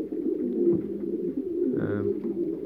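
Pigeons in a loft coo steadily, a low soft rolling murmur that carries on throughout, close and continuous with no talk over it.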